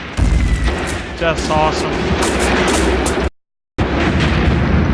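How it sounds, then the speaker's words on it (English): Artillery shells pound a bunker in a tank warfare game, booming blasts and bursts over a loud, dense battle din, with a voice briefly talking over it and a short silent gap near the end. "Look at that bunker being pummeled by our fire."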